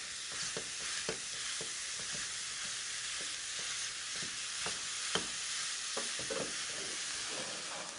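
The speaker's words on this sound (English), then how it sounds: "I'll mix everything up well while I'm breaking up the beef as it cooks" Ground beef with dried thyme sizzles steadily in a frying pan, with occasional scraping taps of a utensil breaking up and stirring the meat, moderately quiet and without talk.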